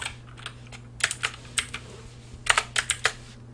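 Typing on a computer keyboard in a quiet room, with irregular clusters of crisp key clicks and a steady low hum underneath.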